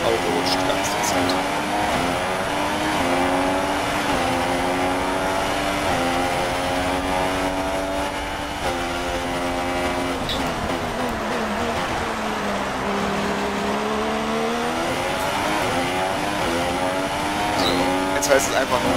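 Race car engine in the F1 2016 video game, a steady high-pitched whine rising and falling with gear changes as the car slides slightly, continuous throughout under people talking.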